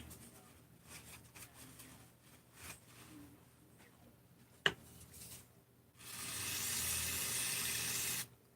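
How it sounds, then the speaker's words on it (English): Brake cleaner hisses from an aerosol can onto a carburetor, one steady spray burst lasting about two seconds after quieter shop rustling and a single sharp click. "Put a little brake cleaner on it."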